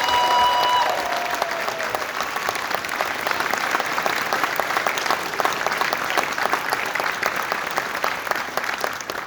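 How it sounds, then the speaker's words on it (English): Sustained applause from a convention audience at a closing ceremony, a steady dense clatter of many hands clapping that holds for the whole stretch at an even level. "Can we get a quick round of applause for that group?"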